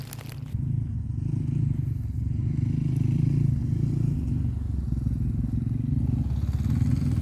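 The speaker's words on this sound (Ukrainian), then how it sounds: "чуєте гуде. Це квадроцикли їздять вихідний день" Quad bikes (ATVs) drive through a forest on a weekend. Their engines make a continuous low, rumbling drone at a moderate distance. The drone holds steady with slight rises and falls, and there is no talk.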